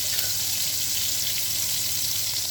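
Shrimp frying in a pan give off a steady, bright sizzle, close and constant with faint crackles, and no voices over it.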